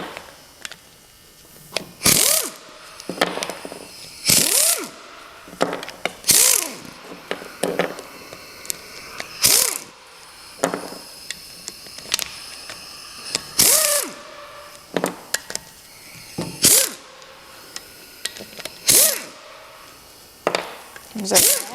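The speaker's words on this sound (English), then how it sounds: "remove all of these bolts to take this plate off of the bottom" Ratchet wrench clicking as bolts are removed from the bottom plate of a Farmall Cub tractor, loud close bursts of rapid ratcheting repeating at intervals with short pauses between, and a voice talking in between.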